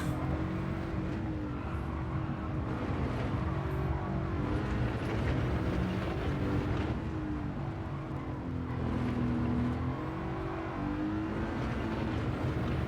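Race car lapping the Nürburgring in Gran Turismo 7, engine droning steadily with rising and falling revs through gear changes and corners, loud and continuous with no talk.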